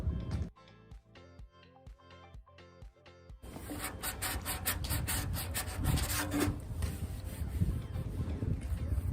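Body filler on an RVF400 motorcycle fuel tank is sanded with 120-grit paper. A few short, separate rasps come first, then steady, loud back-and-forth rubbing follows up close.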